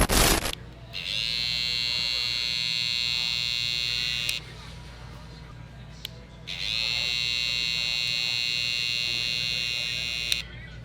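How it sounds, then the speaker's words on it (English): BaByliss Gold FX hair clipper trimmer running with a steady high-pitched motor whine and buzz, switched on for about four seconds, off briefly, then on again for another four seconds, close and fairly loud with no talking. "So let's do a sound test. How loud is the Gold FX trimmer?"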